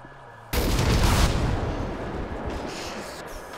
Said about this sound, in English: It's going to explode.